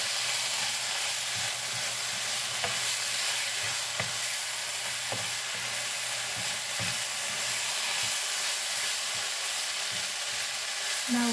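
Milkfish and beancurd sauté with black pepper in a pan, giving a steady, soft sizzle with occasional light stirring clicks, quiet and close with no talking.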